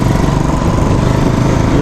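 A small, fuel-efficient motorcycle engine drones loudly and steadily up close with a rough, pulsing low rumble throughout.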